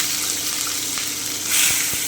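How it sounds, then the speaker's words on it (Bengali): Prawn heads fry in hot oil, giving a steady close hiss of sizzling with a couple of sharper pops near the end and no voices. "তেল কিন্তু গরম হয়ে গেলে এবারে আমি চিংড়ি মাছের মাথাগুলো দিয়ে দিচ্ছি।"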